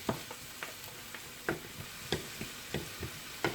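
A mixture is stirred in a hot pan to keep it from caramelizing, giving a soft sizzle beneath a regular series of light spoon scrapes and taps, close and fairly quiet, with no talking.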